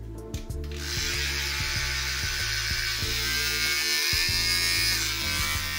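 A ten-year-old electric hair clipper, freshly oiled with 3-in-1 oil after drying out, switches on with a few clicks and then runs in a steady, close, rattling buzz with no talking.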